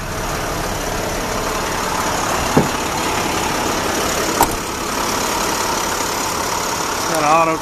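A truck engine with an auto crane idles steadily after a jump start, a continuous close rumble with a couple of faint clanks.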